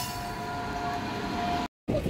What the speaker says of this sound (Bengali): এই যে আমাদের ট্রেন ঢুকে গেছে।